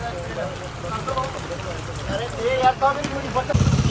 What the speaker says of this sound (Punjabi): ਬਾਰਿਸ਼ ਹੋ ਗਈ ਤੇਜ਼